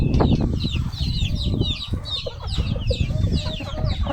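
Chickens and a large rooster cluck and squawk nonstop close by while being hand-fed mulberries on a farm, a dense flock chorus of overlapping calls with scattered rustling.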